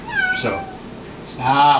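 A house cat meows twice indoors, one long rising cry near the start and another near the end, close and clear, with a person speaking briefly between them.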